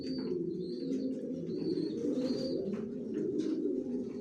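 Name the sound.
racing pigeons cooing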